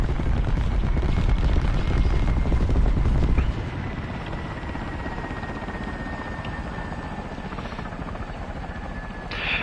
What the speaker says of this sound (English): I'm in an Israeli one, but still, it's an American helicopter.